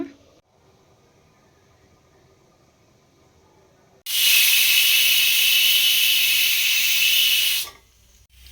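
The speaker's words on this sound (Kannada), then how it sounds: "ಹಿಂಗೆ ಕುದಿ ಬರಬೇಕಾದ್ರೆ ಲಿಡ್ನ ಕ್ಲೋಸ್ ಮಾಡಿಬಿಟ್ಟು ಒಂದು 3 ವಿಷಲ್ ಕೂಗಿಸ್ಕೊಂಬಿಡೋಣ" A closed pressure cooker cooking pulao lets out a loud, steady burst of hissing steam for several seconds, rising sharply out of a quiet kitchen background and then cutting off.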